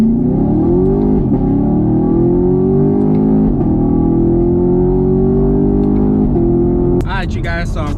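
A 6th-gen Camaro with Noico sound deadening on its floor pans cruises around town, giving a steady, close low engine drone and road hum that rises slightly in pitch, with a brief voice-like burst near the end.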